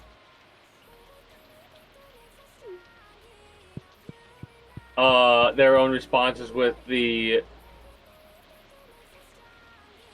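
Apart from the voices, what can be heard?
rain falling in video game Stardew Valley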